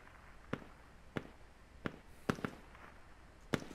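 Sharp, distant explosions from the military shooter game Squad crack out about six times at irregular intervals, each a short bang with a brief tail, and no voices are heard.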